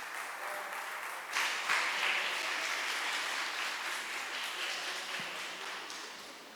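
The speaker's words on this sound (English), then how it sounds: "If you want applause, please do it for the kids because they are the rock stars." Steady audience applause for schoolchildren at a Bitcoin education event in El Salvador, rising sharply after a moment and holding as a continuous wash of clapping before slowly easing.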